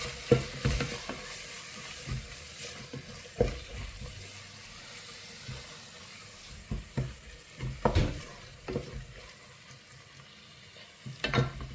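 Masala with pepper powder, garam masala and cumin powder sautés in a pan: a low, steady sizzle broken by irregular, close scraping clatters of the stirring spoon.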